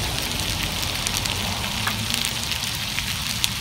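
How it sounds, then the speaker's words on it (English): Noodles sizzle and crackle in hot oil, a steady frying hiss with small pops, no talking. "it looks like it's stir frying my noodles right now"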